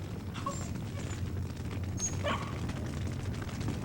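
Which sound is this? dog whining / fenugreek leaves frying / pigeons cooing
dog whining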